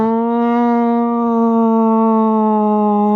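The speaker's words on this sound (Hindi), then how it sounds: "पुलिस की गाड़ी आ रही है। तुमने सुना?" A police car siren wails in a long, loud, steady tone that slides slightly in pitch, heard close and alone for a few seconds.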